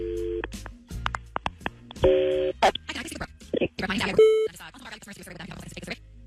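Phone dialing tones and a ringing line sound in short bursts during a radio show call, mixed with talking and music around them.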